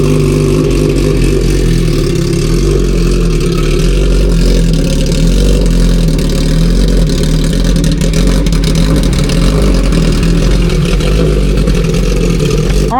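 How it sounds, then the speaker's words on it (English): An MV Agusta Rush motorcycle engine with its exhaust system runs loud and close, holding a dense, steady roar through the whole stretch, with rev swells but no voices. "I just wanted to start that so you guys understand how crazy this bike sounds when you rev it"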